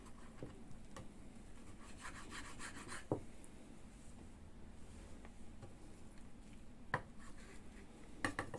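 A knife working through sticky bacon on a board, soft rubbing and scraping strokes with a few sharper taps of the blade, quiet and close with no talking.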